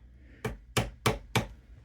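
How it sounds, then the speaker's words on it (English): A hammer strikes the electrical contact on a GMT400 Chevrolet Suburban's barn door four times in a steady rhythm. The blows are sharp, close and evenly spaced. "I'm just gonna whack this a little bit with my hammer here"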